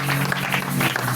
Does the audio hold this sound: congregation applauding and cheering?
yes